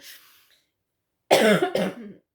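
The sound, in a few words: cough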